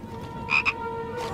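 A toy frog, not a real one, croaks during an Easter egg hunt: two short, close croaks in quick succession over a steady low background hum.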